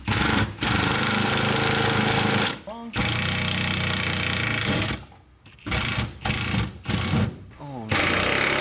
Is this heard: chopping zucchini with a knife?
no